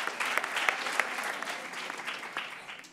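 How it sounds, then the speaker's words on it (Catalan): Classmates on a spelling quiz show break into brief, moderately loud applause, a dense wash of clapping with a few sharper claps that fades near the end. "I l'aplaudiment dels seus companys i companyes."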